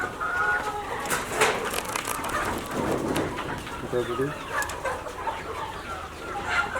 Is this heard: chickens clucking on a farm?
yes